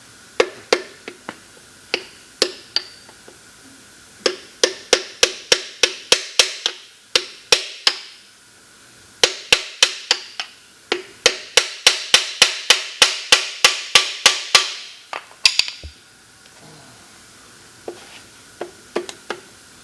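Sharp metallic taps from a hammer handle striking an engine part on a problem donor motor, coming in rapid rhythmic bursts of about a dozen blows each, separated by short pauses, close and crisp.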